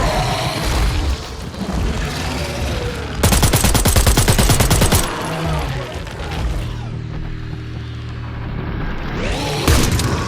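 Machine gun fire in the video game The Sinking City rattles in a dense rapid burst mid-clip, amid booming in-game combat noise and muffled thuds before and after.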